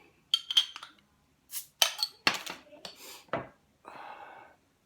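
A bottle of Bear Republic Red Rocket Ale is opened with clinks of glass and metal, a cap pop and hiss, then a brief pour-like rush, each sound close and separated by quiet gaps.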